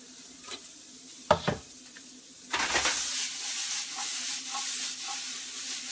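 Diced mirepoix sizzles steadily in a hot pan, with two louder scraping stirs breaking through the constant frying hiss; no one speaks.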